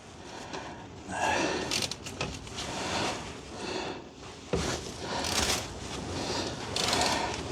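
A brake adjuster on a Triumph Spitfire is tightened by hand, giving close mechanical scraping, creaks and ratchet-like clicks in uneven bursts over several seconds, with no talk.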